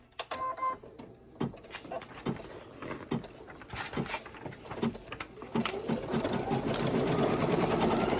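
Embroidery machine stitching a stem placement line on a pumpkin patch coaster over cutaway stabilizer, a fast rhythmic mechanical clatter that starts sparse and builds to a steady, louder run.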